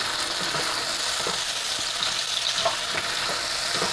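Chopped tomato sizzles and crackles steadily in hot oil for a curry with rohu (katla) fish head and moong dal, a dense continuous fry with a few soft stirring taps, no voices.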